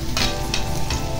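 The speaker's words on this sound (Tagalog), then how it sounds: "So, gisahin natin yung bawang." Garlic sautéing in hot oil in a frying pan, a steady close sizzle with a few brief stirring scrapes, no voices.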